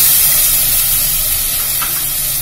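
Steady, loud sizzling and hissing of tomatoes frying in a clay pot for a mutton curry, with faint scraping of stirring running throughout.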